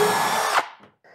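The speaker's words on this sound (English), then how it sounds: "So you've got to turn the whole thing sideways and then drill in." Power drill boring a pocket hole through a workpiece held in a Kreg pocket hole jig turned sideways, a loud steady whine lasting about half a second before it cuts off and spins down, with faint handling noises after.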